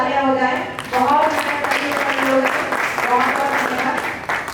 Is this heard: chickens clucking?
no